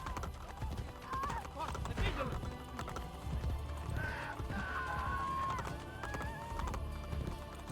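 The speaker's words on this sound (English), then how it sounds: "Come on, horse, you can run faster." Horse galloping in the video game Assassin's Creed Brotherhood, rapid clip-clopping hoofbeats with a whinny and tonal game sounds, while a voice talks over the ride.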